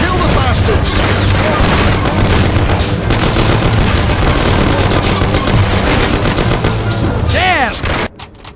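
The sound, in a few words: gunfire in Mafia video game shootout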